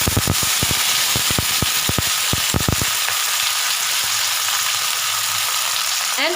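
Groundnuts and curry leaves frying in a pan: a loud, steady hiss of oil with a burst of sharp pops and crackles in the first few seconds, then continuous sizzling, close and alone.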